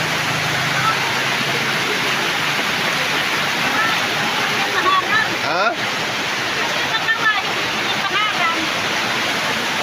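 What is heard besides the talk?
floodwater rushing after heavy rain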